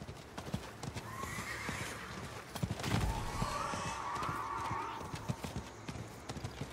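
Video-game horse clopping along with rapid hoofbeats, then letting out a drawn-out whinny midway, followed by another neigh; the animal sounds close and clear over a quiet background.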